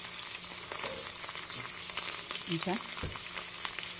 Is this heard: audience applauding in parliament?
no